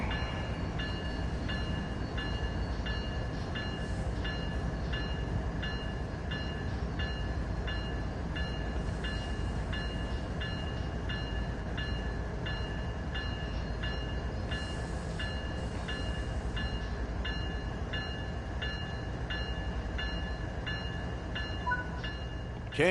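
A train in the rail simulator Train Sim World 3 rolls along and slows to a stop as the independent brake is applied, a steady loud rumble with a constant hum and faint clicks, no voices.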